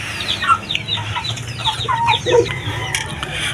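Young Shamo chickens cluck and chirp in short, overlapping calls, fairly close and moderately loud, with a brief low squawk partway through over a quiet background.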